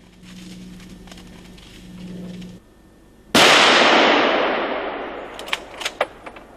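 A single loud hunting rifle shot cracks out at a driven boar hunt in beech woodland, its long echo rolling away through the forest, followed by a few smaller sharp knocks after a quiet, low-humming stretch.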